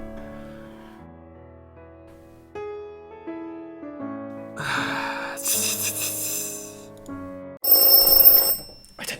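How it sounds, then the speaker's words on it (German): A video game alarm clock in Panzermadels rings with repeated tones, growing louder and more insistent toward the end, with bursts of brighter noise near the finish. "dieser Wecker könnte penetranter nicht sein"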